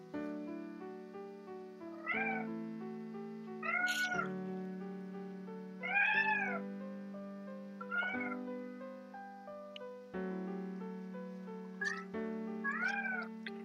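A house cat meowing repeatedly at a closed door, a series of clear, close, drawn-out meows spaced a couple of seconds apart over steady background music.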